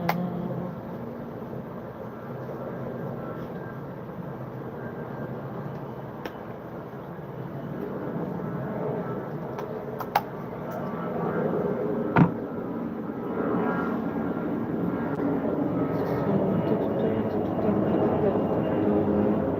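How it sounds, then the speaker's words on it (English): Loud aircraft passing overhead outdoors, a steady broad roar that swells and lingers through the whole stretch, with faint background noise and a couple of sharp clicks. "Fucking loud ass planes."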